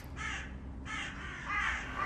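Crows caw in three harsh, raspy calls separated by short pauses, fairly close and clear over a quiet background.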